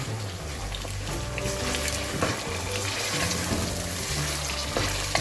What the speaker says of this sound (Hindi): अब मैं इसमें शामिल कर रही हूँ बीफ।